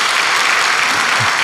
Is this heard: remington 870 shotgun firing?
no